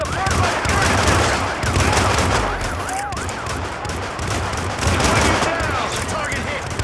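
Rapid bursts of automatic gunfire in the video game Hitman, loud and close, with repeated fusillades over a dense battle din, sharp whizzing tones and shouted voices mixed in.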